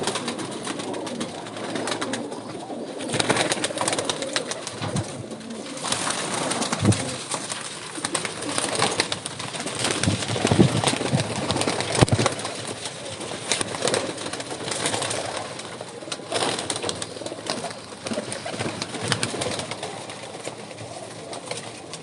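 Pigeons kept by a pigeon fancier coo close by, a dense, continuous layer of overlapping soft throaty calls with occasional rustling and wing movement, and no talking.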